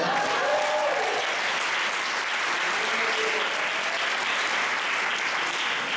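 A congregation at a sermon breaks into sustained applause, a dense, continuous roar of many hands clapping at even loudness throughout, with faint voices mixed in.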